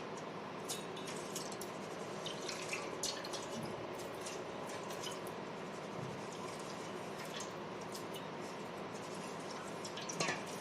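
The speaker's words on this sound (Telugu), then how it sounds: "వాటర్ యాడ్ చేస్తున్నాను." Water is added to washed rice and lentils in a pressure cooker while making sweet chakkarapongal, heard as a soft, steady trickle with scattered drips and light clinks that continue throughout at low level.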